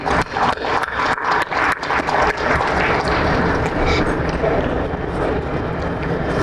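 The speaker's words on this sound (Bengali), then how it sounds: "আমরা তাদের জন্য একটা জোরে হাততালি দিই" A crowd at an Armed Forces Day ceremony at Senakunja breaks into loud, sustained applause: dense clapping that starts with sharp bursts and then settles into a steady roar.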